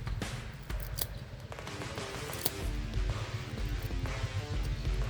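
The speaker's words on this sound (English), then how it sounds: "Alright, so let's quickly cut through this thing, see how many times I can cut through it" A hand saw cuts through a small, damp, knotty piece of wood with a rapid close rasping of back-and-forth strokes over a dense background rumble, and no one speaks.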